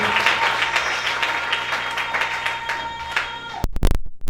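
A church congregation breaks into loud, sustained applause that fills the room as a dense wash of clapping, then cuts off abruptly near the end.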